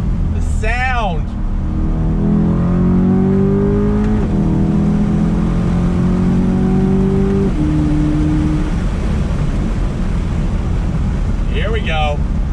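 A Chevrolet C8 Corvette Z51 convertible engine revs hard under throttle, rising through gears with loud, sustained exhaust roar over constant wind noise, with a person cheering briefly at the start and end.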